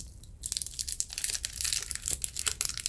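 Crinkly crushing and rustling of a papillote candy wrapper being unwrapped, close and busy for nearly three seconds after a brief quiet start, with no talking.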